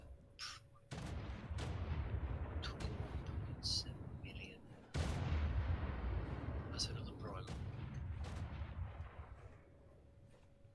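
Repeated heavy booming explosions in Ark: Primal Fear roll one after another in deep rumbling bursts, with a sharp crack at one point, while a person talks quietly underneath.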